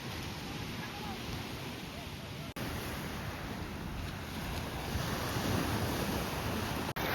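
Mediterranean Sea waves washing onto the beach at Cambrils, Spain, in a steady broad roar of surf mixed with wind buffeting the microphone.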